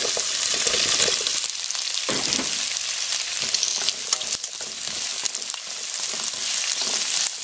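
Garlic and onion sauté in a pan for yakisoba noodles, giving a loud, dense, unbroken sizzle with brief shifts and stir disturbances throughout.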